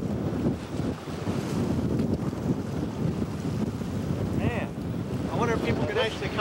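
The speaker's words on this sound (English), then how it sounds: "It's this has got to be 25 to 30 mile an hour winds." Strong 25 to 30 mph wind roars across Lake St. Clair during bass fishing from a boat, buffeting the microphone steadily with waves and water noise beneath and faint voices now and then.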